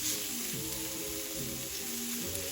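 Fresh minced garlic sizzles steadily in a hot pan, a continuous crackling fry with a low hum of kitchen background throughout.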